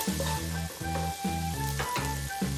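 Tomato pieces go into a hot frying pan for a chapati noodles dish, sizzling steadily close by, with a regular stirring or scraping rhythm roughly every half second throughout; no one talks.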